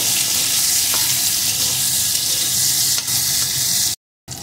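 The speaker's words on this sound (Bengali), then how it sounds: "আলুটাও আমি লাল লাল করে একদম সুন্দর করে ভেজে নিয়েছি" Potato pieces with a pinch of salt frying in hot oil for a bittergourd fish curry, a steady dense sizzle throughout with a couple of brief clinks, then a sudden cut to silence before the sizzle resumes.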